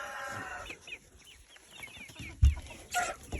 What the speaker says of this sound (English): Alright, well, we're at the chickens.